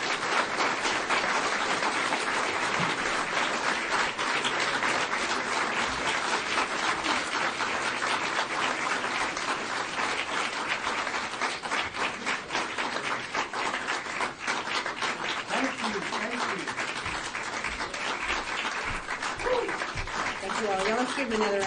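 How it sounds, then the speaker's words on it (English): Meeting audience applauding together, a dense sustained wash of clapping that stays loud and steady throughout, with a few voices mixed in near the end. "Let's give him another round of applause."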